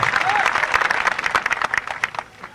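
A crowd applauding guests, leaders and artists at a Gujarati folk music gathering, with brisk, dense clapping at close range that thins slightly toward the end under a little voice.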